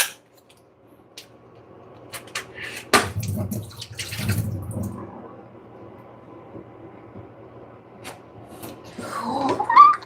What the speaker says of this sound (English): we have our burrata cheese that we are going to drain off the water